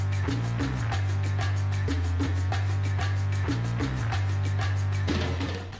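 A 5/4 clave-style rhythm in the style of the Mission Impossible theme, grouped 3+3+2+2, played as loud, steady percussive hits over a sustained low bass tone, with the accented pattern repeating several times.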